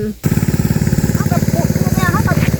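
A small engine pump runs steadily up close, drawing water to flood a one-rai field being prepared for planting water spinach, with an even chugging pulse throughout and a voice speaking over it.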